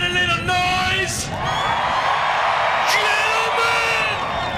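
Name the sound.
crowd cheering at Talladega racetrack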